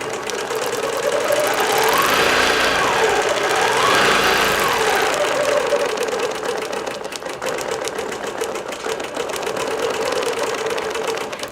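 A digital quilting machine stitches cotton and batik fabric, a rapid, even mechanical chatter that runs continuously and fairly loud, its pitch shifting slightly as the speed changes.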